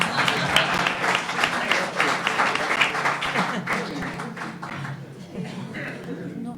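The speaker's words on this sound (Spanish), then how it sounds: "¿Me aplaudís?" Audience clapping at a political talk and discussion, a scattered run of claps that gradually thins out, with voices murmuring underneath.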